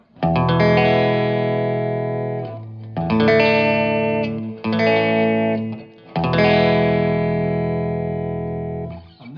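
Electric guitar through a Harley Benton Tube 15 amp on its 1-watt setting, reverb at position 4, four sustained strummed chords ringing out with a roomy tail, fairly loud, no talking.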